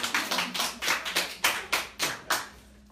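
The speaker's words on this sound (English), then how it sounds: "Give him a nice round of applause" Small corporate audience giving a round of applause for a volunteer at a hypnosis show, with a few hands clapping in a loose, uneven rhythm that fades out near the end.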